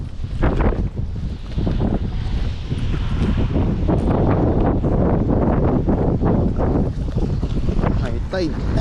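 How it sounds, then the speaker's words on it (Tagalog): Strong wind at the seashore during high-tide fishing buffets the microphone in heavy, rumbling gusts, with a voice talking faintly beneath the roar. "Lakas po ng hangin."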